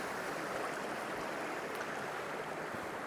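Cascading water of a stream at a barren, rain-swept photography spot, heard as a steady, close broadband rush with no voices over it.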